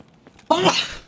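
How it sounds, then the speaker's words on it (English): A single close, loud sneeze from a man, a short sharp burst after a quiet lead-in. "I'm gonna sneeze here."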